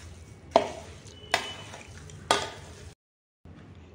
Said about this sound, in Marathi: ती आता आपण ह्या मसाल्यात मिक्स करून घेऊ. मेथीची भरड मिक्स करायची.